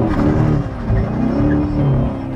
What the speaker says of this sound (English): Yes, okay, it can light the tires up without any trouble whatsoever.